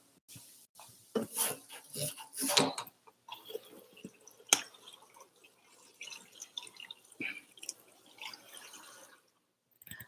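Vegetables being rinsed under running water at a kitchen sink, with drips, splashes and clinks of dishes and utensils in irregular bursts, close and moderately loud, fading to quieter handling sounds.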